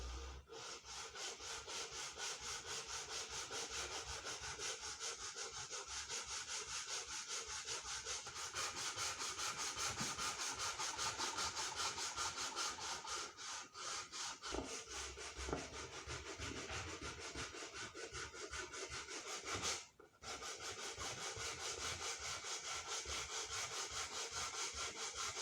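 A piece of sandpaper rubs rapidly back and forth to trim excess wood veneer along a half-round moulding on a marquetry panel. The close, rasping strokes are steady and continuous, with one brief pause near the end.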